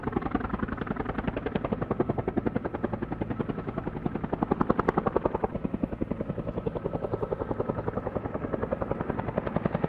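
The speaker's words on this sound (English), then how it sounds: "For the first time ever, a plane landed on a helicopter pad." Rapid, steady rotor chop from an aircraft landing on a helicopter pad, loud and close throughout with a dense rhythmic beat and no talking.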